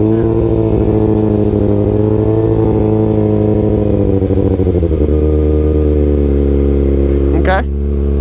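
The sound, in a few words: Kawasaki 636 stunt motorcycle engine revving with raised idle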